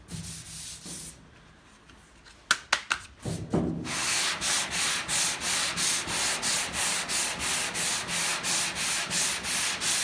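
A sanding board works over body filler on a Chevy pickup panel, starting with a few scattered scrapes and then settling into loud, steady back-and-forth rasping strokes heard up close.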